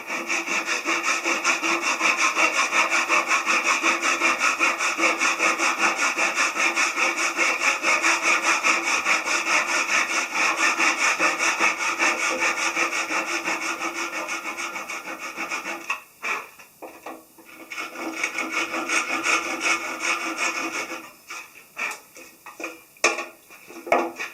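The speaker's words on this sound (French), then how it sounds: "Là j'affleure les queues d'aronde à l'avant des marches de l'escalier." Wooden dovetails on the front of staircase steps for a mezzanine cabin are trimmed flush by hand with a saw, a long loud run of dense rhythmic rasping strokes close up, breaking into shorter, choppier strokes near the end.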